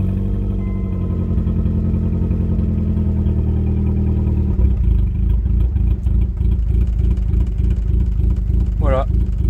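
A Ford Probe / Mazda MX-6 engine idling steadily at about 700 rpm after ignition timing adjustment, a loud close rhythmic hum that shifts to a more pulsing idle midway, with someone talking over it.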